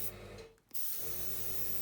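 Colour spray misted onto hydrangea petals gives a continuous hiss with a brief pause in the middle, close and soft, with no talking.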